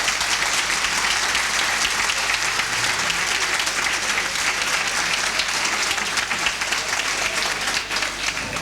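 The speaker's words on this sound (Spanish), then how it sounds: "vamos a aplaudirle" Sustained applause from an audience at an award evening in Jabalí Viejo, Spain, honouring the person of the year, a dense, steady clapping that fills the whole stretch without a break.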